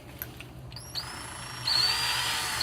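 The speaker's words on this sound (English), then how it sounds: "go ahead and drill your holes out" A small power drill with a 7/64 bit spins up with a rising whine, then holds a steady high-pitched drilling tone, close by with no talking.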